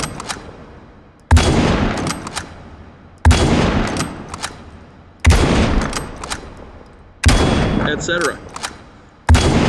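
Five loud, evenly spaced bolt-action rifle shots in the virtual reality game H3VR, each a sharp crack trailing off into a long echo before the next, with a few brief mechanical clicks between.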